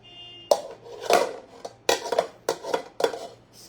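Metal casserole pots and lids clank and scrape several times in a short burst, close by and fairly loud, with no talking.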